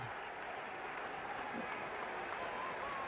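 Steady applause from a cricket crowd at a 1973 England versus West Indies Test match, a broad continuous wash of clapping from a large far-off crowd that fills the whole stretch, with a commentator speaking over it.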